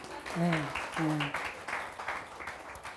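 Light applause spreads through a church congregation and continues steadily while a voice speaks over it.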